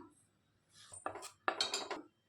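A metal kadhai is set down on a stove, producing a couple of close, clanking metallic knocks and rattles in quick succession, then quiet, with no talk.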